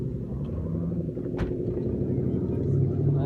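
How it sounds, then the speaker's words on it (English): Cars pulling into a car meet rumble with a low, steady engine drone close by, with a brief sharp noise in the middle and voices faintly underneath. "All the cars are pulling in."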